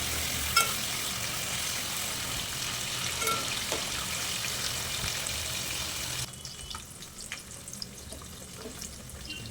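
Paneer fries in hot oil for a masala curry with a steady broadband sizzle, close and continuous, that drops noticeably quieter partway through, with occasional faint clinks and no talking.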